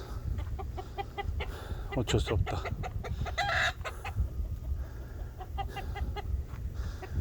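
Chickens cluck and squawk nearby in agitated bursts on a farm as one is being caught, with a person speaking briefly underneath.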